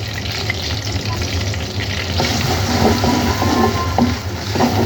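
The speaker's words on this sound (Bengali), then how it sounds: "এবার আমি এই পেঁয়াজ আদা রসুনটাকে একটুখানি কষিয়ে নিচ্ছি তেলের উপর" Onion, ginger and garlic paste fries in hot oil with a dense, steady sizzle, heard close and continuous, with faint stirring clicks toward the end.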